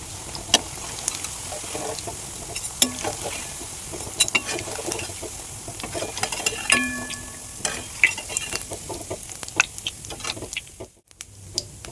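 Soybean kofta frying in oil in a home kitchen, a steady close sizzle with scattered crackles, pops and utensil clicks, fading briefly near the end.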